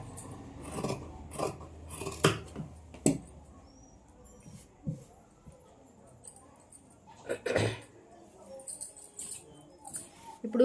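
Scissors snip through fabric while cutting a princess blouse sleeve by hand, giving a series of close, crisp cuts and rustles in irregular bursts with quiet gaps between.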